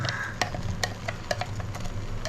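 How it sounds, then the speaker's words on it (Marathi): A spoon stirs and sautés crab stuffing in a pan for Agri-Koli style stuffed crabs, giving quick repeated scraping strokes over a soft sizzle, close and without talk. "मस्त बघा आता मस्त चालवून घेऊ त्याला बघा परतून घ्यायचं जास्तीत जास्त"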